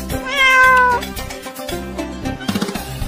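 A single drawn-out meow, bright and close, sounding over a cheerful musical backing that carries on after it.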